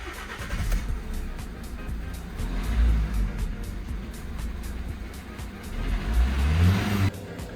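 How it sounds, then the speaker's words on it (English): A Fiat 1.6 engine, just repaired after a broken timing belt, cranks and catches, then runs with a steady rumble and a couple of revs, fairly close. "The car runs perfectly."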